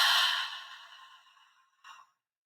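A single deep, slow exhaled breath during a guided meditation, loud at first and fading gradually, followed by a brief softer puff of air and then silence.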